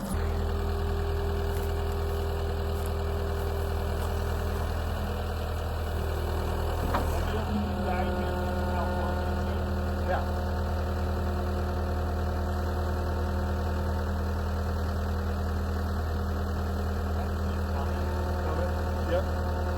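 A tractor engine idles steadily close by while it holds a pallet during barn door slider installation, a constant low rumble running throughout with a brief clunk midway.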